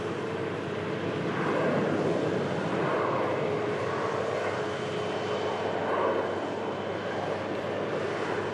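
A Ryanair jet arriving from Tirana touches down at Manchester, a broad, steady roar of engine and airflow that swells slightly and stays fairly loud throughout, with no voices.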